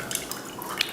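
A hand squeezes and dissolves tamarind in water, giving a faint, brief wet squishing with a few soft drips and splashes.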